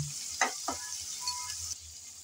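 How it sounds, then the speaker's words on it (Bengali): Radish greens and shrimp sizzle in a hot pan with a steady frying hiss, broken by a couple of sharp stirring scrapes near the start, close up and without speech. "কিছুক্ষণ নেড়ে চেড়ে ভেজে নিয়েছি।"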